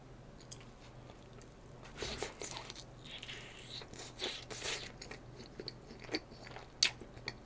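Someone eats a slice of gochujang bulgogi pizza from a Korean chain's regional pizza lineup, with soft close-up chewing and a few sharper crunchy bites in quiet surroundings.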